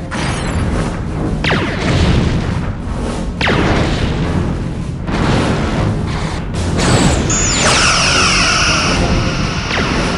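Weapon fire and explosions erupt during space combat in a video game: repeated booming blasts, swooshing shots and crashing impacts, loud and close, with metallic mechanical textures between the hits.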